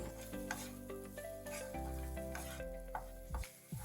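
Spiced potatoes with salt are stirred in a pan, giving a soft sizzle with scraping and light utensil knocks. A steady low hum runs underneath.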